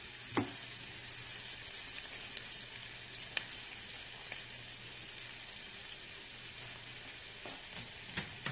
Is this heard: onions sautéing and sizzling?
yes